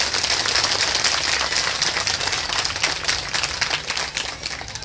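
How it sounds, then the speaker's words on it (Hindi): A crowd at a Bhagwat katha gathering in Khoda, Noida claps loudly and continuously for Maharaj ji, a dense, sustained patter of many hands filling the hall. "एक बार तो महाराज जी का जोरदार से ताली बजाओ"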